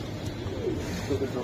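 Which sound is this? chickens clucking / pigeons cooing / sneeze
pigeons cooing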